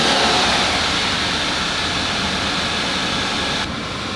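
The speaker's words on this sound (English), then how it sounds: "Let's hear a few revs." A loud car engine revs and roars steadily with broadband noise, holding high before easing off slightly near the end; no talking.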